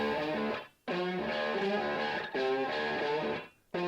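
Main guitar riff from a 1975 song mix, played through a heavily wet tape echo, with sustained harmonic chords that cut off briefly twice, the repeats smearing each phrase together.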